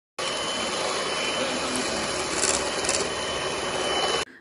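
An electric mixer beats eggs and sugar for a tres leches cake batter, a steady whirring motor with scraping rasp from the bowl, starting and stopping sharply.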